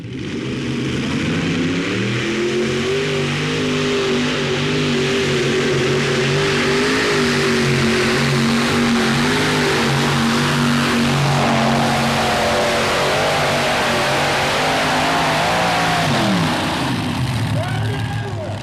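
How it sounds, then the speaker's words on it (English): A modified pulling tractor powered by five Chevrolet V8 engines roars continuously at close range, its deep engine note holding steady and rising slightly before tailing off at the end. "his modified tractor gets its power from using 5 Chevrolet V8 engines"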